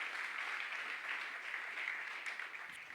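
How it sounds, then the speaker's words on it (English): A room of attendees at a blockchain hackathon opening ceremony in New York claps steadily, a soft, even wash of applause that holds at a moderate distance for the whole stretch. "give us one more round of applause for all the people here in the room"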